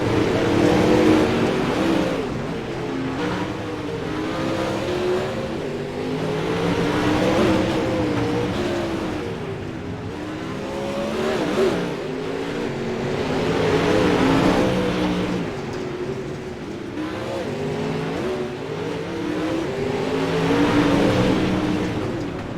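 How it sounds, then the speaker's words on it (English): Race cars from the Ram Series and Dirt Series run hot laps at the second annual Summer Mayhem, with engines continuously roaring and revving as they swell and fade while circling the track. "Hot laps underway for the second annual Summer Mayhem, the Ram Series versus the"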